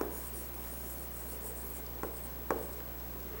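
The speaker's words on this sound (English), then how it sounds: "Now write down the answer." Pen or pencil writing out a division answer during a maths lesson, faint scratching strokes over a steady background hum, with two brief taps near the end and no talking.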